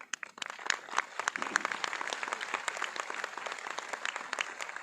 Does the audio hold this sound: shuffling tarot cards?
no